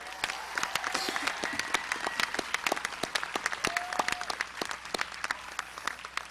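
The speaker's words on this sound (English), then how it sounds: "Please join me in applauding" Applause for a high school graduation ensemble after Pomp and Circumstance at a 2009 ceremony, a steady, moderately distant crowd clapping with sharp individual claps standing out.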